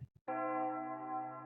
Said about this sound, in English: Anyone else hear those ominous bells tolling?